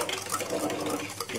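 A spoon stirs dalgona coffee of sugar, instant coffee and hot water in a cup, giving a continuous scraping, clinking swirl close by with no talk.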